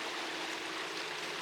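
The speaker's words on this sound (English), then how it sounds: "You can hear the water." Canal water in Amsterdam heard from a tour boat, a steady soft wash and trickle of moving water filling the clip at low level with no talk.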